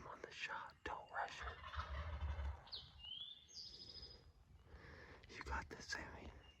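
Wild turkeys gobble in the distance during a spring turkey hunt, a couple of short rattling calls while hushed whispering voices carry on close by.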